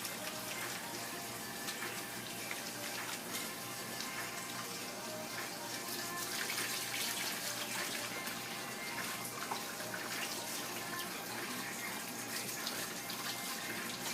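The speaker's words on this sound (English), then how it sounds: "wash up my hands." Tap water runs steadily into a sink for the whole stretch as hands are washed under it, a continuous close splashing hiss with small shifts as the hands move through the stream, during prep for marinating a nearly 10-pound beef brisket.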